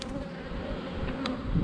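A large honeybee swarm near a hive drones in a steady, dense buzz that holds continuously throughout, close and fairly loud, with no voices.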